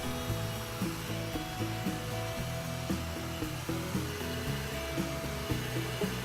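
A heat gun blowing hot air onto an exterior wall while vinyl film is applied, a loud steady whirring hiss with faint rhythmic rubbing underneath, continuous throughout.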